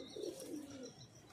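A flock of Punjabi pigeons gives soft, low coos with a faint chirp or two over quiet rustling, heard alone at a distance.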